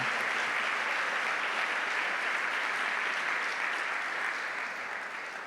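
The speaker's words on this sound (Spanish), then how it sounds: "Damos fuerte esa ofrenda de palmas a nuestro Dios, hermanos." A church congregation claps loudly and steadily in worship, a dense sustained wash of applause that fades slightly toward the end.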